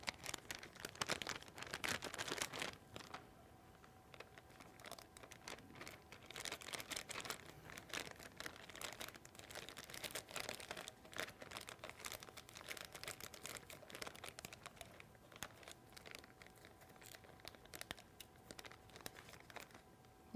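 Plastic from a Ziploc bag crinkles steadily as strawberries are moved from the bag into a laboratory beaker, giving a continuous close rustle with small crisp peaks and no voices.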